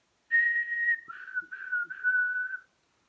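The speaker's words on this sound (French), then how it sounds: "Je siffle une mélodie de 4 notes" A lone person whistles a four-note melody up close: a bright, clear first note, then three shorter, slightly lower notes in steady succession, with silence before and after.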